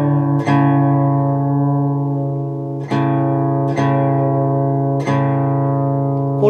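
Strummed guitar chord with the fourth string tuned noticeably flat, ringing out in four sustained strums spaced a second or so apart, close and clear with no talking.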